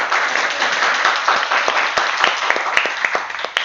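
A room full of people applauds, a dense patter of clapping that carries on steadily throughout.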